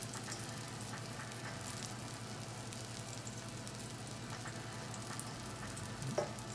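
Eggs fry in a pan in Waffle House style, giving off a steady, soft sizzle with faint crackles and a small clink near the end, quiet and close with no talking.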